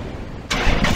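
A Dodge Challenger's engine fires up by remote start, a sudden loud crank catching halfway through and settling into a rough, throaty idle after a quiet lead-in.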